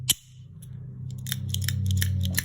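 A SOG Switchplier push-button automatic multi-tool snaps open with one sharp metallic click near the start, followed by quieter clicks and rattles of the tool being handled up close, with no talking.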